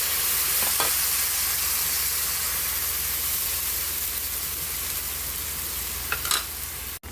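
Sotanghon glass noodles being stir-fried in a hot pan, a steady broadband sizzle and hiss lasting throughout, with a couple of brief scrapes of the spatula and a sharp clatter at the very end.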